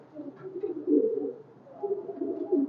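A pair of red-necked highflyer pigeons cooing close by at a pigeon farm, low soft throaty calls rising and falling in a few rolling phrases with brief pauses between them.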